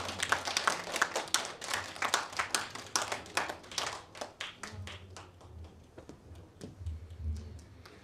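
An audience applauding at a Korean folk song competition awards ceremony, with dense, lively clapping from many hands that thins toward the end into scattered claps.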